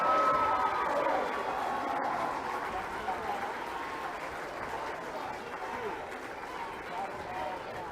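Spectators clap and cheer in a gym at a boys' high school basketball sectional final, applause loudest at the start and then settling into a steady, fading crowd roar with a sharp knock partway through.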